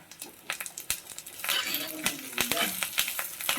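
Sliced onion and curry leaves hit about three spoons of hot oil in a pan and sizzle, while a spoon stirs them with repeated sharp clinks against the metal.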